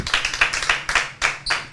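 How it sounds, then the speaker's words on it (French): An audience claps for Wele, the winning contestant, on a televised make-up competition. There is a short burst of quick, fairly close hand claps, several in a row, with no talking over it. "on applaudira encore pour Wele, pour la grande note dont elle repart avec"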